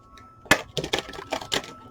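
Angels of Abundance tarot cards are shuffled by hand in a quick burst of crisp, clustered snaps and flutters, close and fairly loud, with five or six distinct card slaps across a couple of seconds.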